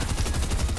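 Rapid automatic gunfire from a weapon in Fortnite Chapter 3 Season 2, a steady fast-firing burst filling the whole moment at moderate loudness, no voices over it.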